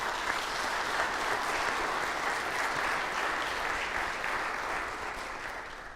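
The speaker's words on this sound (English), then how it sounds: "collectively I want to give a round of applause to all of the cities" Sustained applause from an audience at a community meeting about water in Jackson, Mississippi, a steady dense clapping that holds for several seconds before tapering off.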